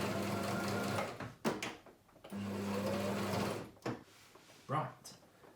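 A sewing machine stitches in two steady whirring runs with a reverse back stitch while making merch, indoors and close, with short pauses and handling knocks between, and people talking over it.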